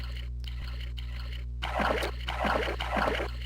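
Rushing river water in the video game Avernum 2, a steady low hum under bursts of splashing and sloshing that surge in waves after a quieter start.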